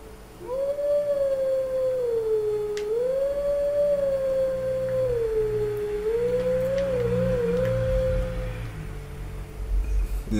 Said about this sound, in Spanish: Ya cuando lo tengas, le aprietas a la y empiezas a aullar.